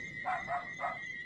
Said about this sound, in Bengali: আর তার চারপাশে কয়েকটা কুকুর ঘেউ ঘেউ করছে।